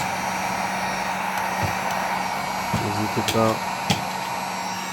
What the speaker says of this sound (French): On va commencer à chauffer les roulements.